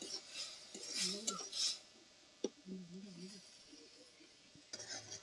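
Spice paste for a telakucha dish being stirred in a pan, with scattered scrapes and clinks of a utensil against metal and a faint sizzle, quiet and close, while a voice talks in between.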